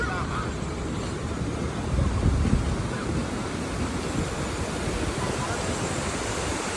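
Waterfall at Anshun in Guizhou, heard from a suspension bridge as a broad, steady roar of rushing water mixed with wind buffeting the microphone.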